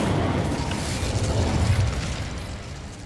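Incendio fire spell cast in the Hogwarts Legacy video game, a loud, sustained roaring whoosh with a low booming rumble that holds steady for about three seconds before easing slightly.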